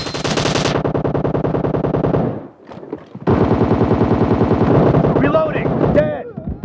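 Rapid automatic gunfire from the mobile game PUBG Mobile, loud and close, in long sustained bursts with a brief pause, then another burst, game sound effects near the end.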